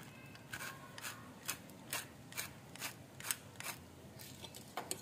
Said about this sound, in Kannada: ನೋಡಿ, ಎಗ್ ಬೀಟ್ ಮಾಡ್ಕೊಬೇಕು ಈ ಥರ 3 ಚೆನ್ನಾಗೆ